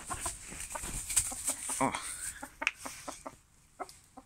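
A rooster in a cockfight clucks and squawks close by in short agitated bursts, with a brief spoken syllable near the start.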